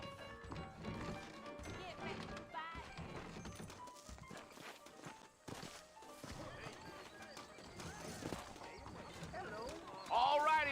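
Horses clip-clop along in the Red Dead Redemption video game, hooves tapping steadily beneath continuous in-game dialogue and music, with a louder burst near the end.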